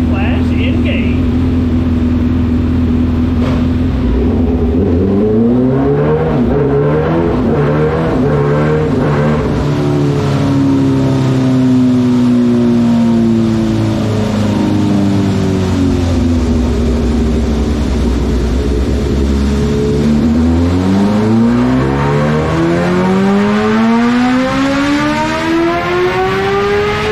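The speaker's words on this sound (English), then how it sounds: "It says it's finished, let's fire it up." A Kawasaki Ninja H2 motorcycle engine fires up just after an ECU flash and revs repeatedly, the pitch climbing and falling in several loud, close sweeps over a steady idle, with a voice talking over it near the start.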